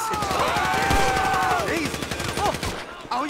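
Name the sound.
gunfire in the video game GTA 5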